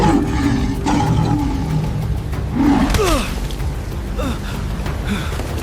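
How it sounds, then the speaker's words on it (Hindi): A lioness lets out a heavy, deep roar, accompanied by low rumbling and a few sliding growl-like cries over a dense background, loud and close, in a dramatized historical story. "अचानक पीछे से एक भारी दहाड़ सुनाई देती है।"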